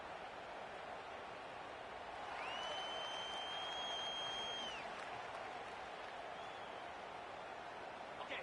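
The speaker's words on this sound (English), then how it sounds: "the noise from this crowd on 3rd and 4" Steady roar of a stadium crowd at a football game, a dense continuous wash of noise that swells slightly in the middle, with a thin whistle-like tone rising above it for a couple of seconds.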